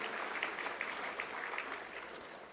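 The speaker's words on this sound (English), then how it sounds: "give him a round of applause" Guests at the Copeland Trophy awards night applaud in a steady, dense wash of clapping with scattered louder claps. It fills the room evenly at moderate loudness throughout.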